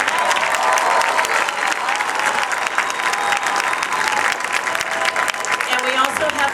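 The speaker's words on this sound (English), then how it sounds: "Let's give them another big round of applause" Big round of applause from the audience after a Blackstock and E. O. Green middle schools spring concert performance, sustained dense clapping throughout with a faint murmur of voices underneath.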